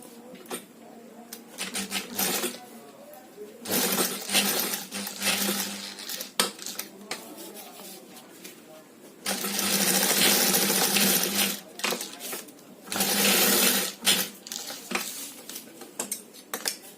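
A sewing machine stitches a fabric tiffin bag in several long, steady whirring runs, separated by short pauses and light handling clatter.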